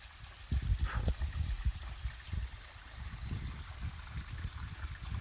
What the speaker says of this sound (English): There's still a set of small waterfalls there, another one down below.